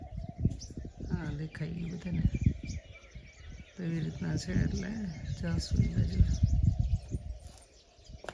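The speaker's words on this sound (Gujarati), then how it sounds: "મસ્ત પક્ષી બોલે છે દમના" Birds chirp and sing outdoors on a hill near a temple at Dhinodhar. Their calls sit under someone talking for most of the stretch.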